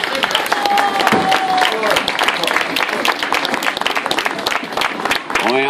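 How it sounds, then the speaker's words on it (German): Audience applause for a tango dance group at an outdoor charity event on a town square, dense and steady clapping throughout, with a brief tonal whistle near the start and voices mixed in. "Euer Applaus."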